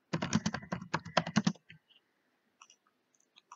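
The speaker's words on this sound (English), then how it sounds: "we can just start typing by clicking anywhere" Rapid clicking keystrokes on a computer keyboard come in a dense burst for about a second and a half, then taper to a few sparse, quieter taps, close and clear with no talking.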